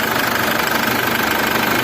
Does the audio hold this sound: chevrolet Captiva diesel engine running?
yes